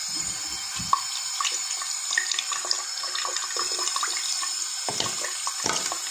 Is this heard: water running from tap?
yes